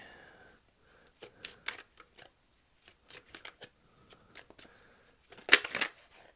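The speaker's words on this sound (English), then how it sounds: "while I may be shuffling the cards" Tarot cards are shuffled in short bursts of crisp riffling and flicking, separated by quiet pauses, with one sharper burst near the end, close and fairly soft with no talk.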